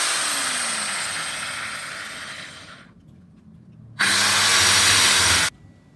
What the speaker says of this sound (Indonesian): Tentu saja perlu kita bor.